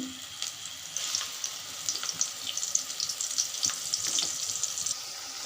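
An onion, garlic and cumin paste fries in a hot wok, giving a steady soft crackle and hiss with small sharp pops scattered throughout, moderately close and without any voices.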